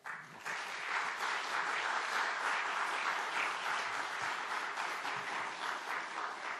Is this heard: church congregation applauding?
yes